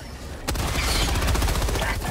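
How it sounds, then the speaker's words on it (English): Rail cannon fired in the video game Helldivers 2 during a difficulty 6 mission, a sudden loud blast after half a second of quiet, followed by sustained dense gunfire and explosive rumble. "Rail cannon."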